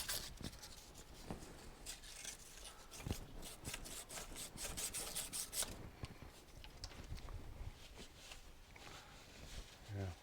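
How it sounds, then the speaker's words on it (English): Rust and dirt are scraped and sanded off a part of a 1975 Suzuki TS250 motorcycle engine, with quiet, close rhythmic rasping strokes that fade toward the end. "I am going to scrape some of the dirt off, and I'm going to sand it a little bit just to get rid of all the rust"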